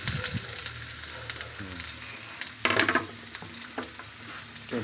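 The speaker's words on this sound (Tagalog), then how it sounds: "magigisa na tayo" Onion, ginger, chili and chicken being sautéed for tinolang manok, with a steady close sizzle and scraping stir strokes, a louder burst of frying midway.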